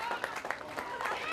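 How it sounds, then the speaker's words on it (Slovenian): An audience claps for the Snow White performance at a Shrovetide carnival in Sveti Tomaž, with scattered, fairly soft applause running under a speaking voice. "Pa sneguljčici še malo zaploskajte"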